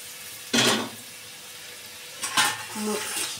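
A lid goes onto a cooking pan of cauliflower curry with a little water added, giving two short metallic clatters about two seconds apart, close, over a faint background simmer.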